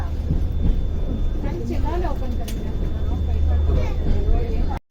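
Karwar Express heard from on board, a steady low rumble and rattle of the moving train carriage with someone talking over it throughout, ending abruptly.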